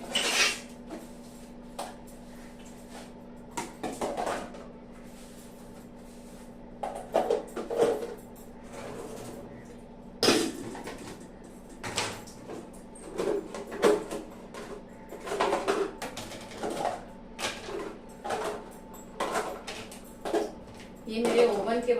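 Metal oven dishes and pans are wiped and set back in place in a home kitchen, giving irregular close clinks, clatters and knocks at varying loudness, with someone speaking between the sounds.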